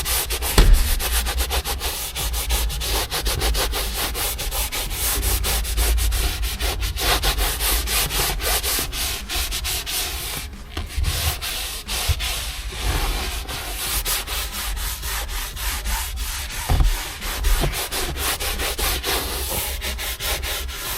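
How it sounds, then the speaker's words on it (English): A Scrub Ninja pad gently scrubs the surface of an HSV GTS during detailing, making a continuous close rubbing and swishing sound that runs steadily for about twenty seconds without speech. "Very gentle scrub. And then we'll treat it."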